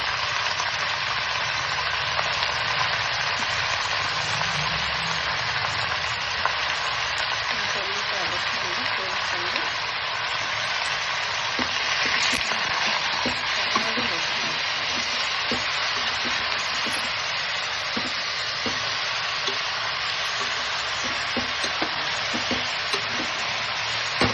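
Chicken sambar ingredients fry in a pan with a steady, dense sizzle that runs the whole time, with occasional stirring scrapes and a voice speaking underneath.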